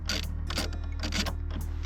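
Wrench ratcheting on the negative battery terminal nut of a Mercedes CLA or A Class, a few quick close mechanical clicks over a steady low hum.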